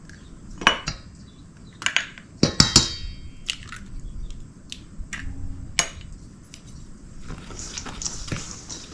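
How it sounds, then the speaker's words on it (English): Eggs are stirred into protein pancake batter in a bowl, producing a series of sharp utensil clinks and taps against the dish, irregular and close, with quieter rustling between strikes. "Stir those in there really good. Make sure everything's mixed up."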